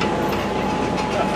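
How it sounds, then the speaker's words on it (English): An amusement park tram at Silver Dollar City rolls along its rails with a steady, loud rumbling clatter, and people talk quietly beneath the noise. "This tram is like a Vekoma."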